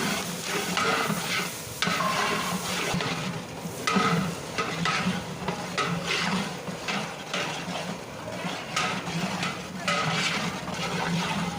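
Mixed vegetables of bell pepper, raw banana and bottle gourd frying in oil and stirred, giving a steady dense sizzle with spoon scrapes throughout, close and continuous.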